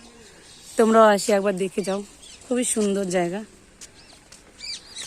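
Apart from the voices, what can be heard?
birds calling in the afternoon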